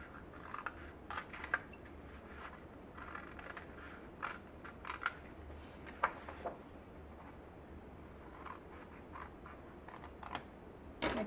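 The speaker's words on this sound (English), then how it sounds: "we're going to cut out this little section right here" Scissors cut a section out of a paper file folder, giving scattered close snips and papery scrapes at an irregular pace, with a few sharper clicks.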